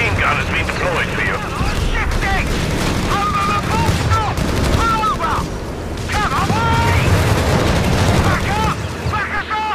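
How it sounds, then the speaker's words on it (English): Heavy machine gun fire and explosions in the World War II strategy game Company of Heroes 3, dense bursts and booms running continuously under excited commentary and game voice lines. "Heavy machine gun has been deployed for you."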